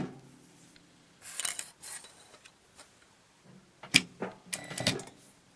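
A sewing machine stitches a quarter-inch seam on a fabric face mask with backstitching, running in several short, quick bursts separated by quiet pauses.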